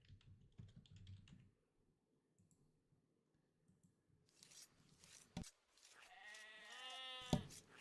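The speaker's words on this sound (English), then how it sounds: "You guys have to hear my typing." Quick, faint clicks of typing on a computer keyboard during a live game-casting stream, heard mostly in the first second and a half, followed by other brief sounds and bleat-like tones.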